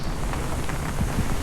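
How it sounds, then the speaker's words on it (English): Heavy rain lashes down on a Sun Odyssey 410 sailboat caught in a squall at sea, a steady dense hiss and patter with low rumbling, continuous and close, no talking. "it's absolutely lashing it down"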